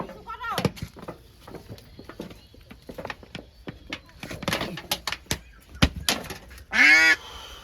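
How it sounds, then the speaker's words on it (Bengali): A female duck gives loud, raspy honking quacks, scattered and repeated close by, mixed with people talking and handling noises. A long quack comes near the end. "এটা মেয়ে হাঁস, শিওর? শিওর মেয়ে হাঁস এটা।"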